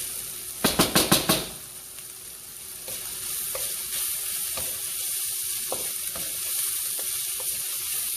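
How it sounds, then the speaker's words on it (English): Shrimp hit the bottom of a hot wok with a quick burst of five sharp clattering knocks, then settle into a continuous close sizzle broken by occasional light taps and stirring clicks, with no voices. "The bottom of the wok is the hottest point, so that's where I'm going to position the shrimp."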